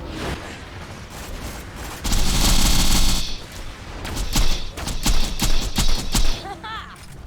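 Chain-reaction explosions tear apart a spider tank in a Digimon-style shooter game, a dense roar of booming blasts and rapid gunfire-like crackle that swells, dips, then bursts again in loud overlapping bangs.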